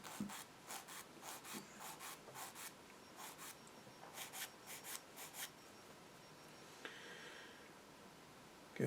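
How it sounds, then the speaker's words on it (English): Part of a Tamiya SU76M plastic model kit gets sanded by hand, producing quiet, close rhythmic rasping strokes in short repeated bursts, faint with no talking. "Careful we don't sand it back too far and destroy any detail."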